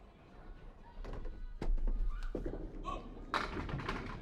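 A candlepin bowling ball rolls down the lane and crashes into the pins for a strike in a playoff match, with a sharp clatter of pins followed by rattling and a few thuds. The alley is roomy and there is faint background chatter.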